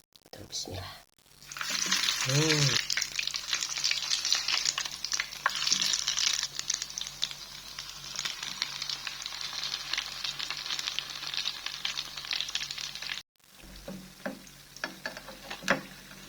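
Lumpia fry in a pan with a loud, continuous sizzle and crackle that runs almost unbroken, with stirring clicks, brief gaps and a soft voice in the background.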